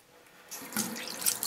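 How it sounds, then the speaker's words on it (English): Tap water runs into a small eye wash cup, starting quietly and then building to a steady splashing rinse close by, with no one speaking. "you got to rinse this little eye wash cup with fresh water"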